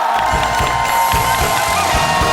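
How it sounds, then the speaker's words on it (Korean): A studio audience at a Korean television variety show cheers loudly and continuously, with crowd shouting and an electronic tone sustained beneath. "박수 부탁드리겠습니다"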